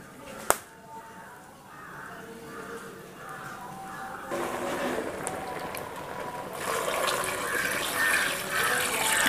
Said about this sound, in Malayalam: ആദ്യത്തെ വെള്ളം ഊറ്റി മാറ്റി പുതിയ വെള്ളം നമ്മൾ ഒഴിച്ചു കൊടുക്കുകയാണ്.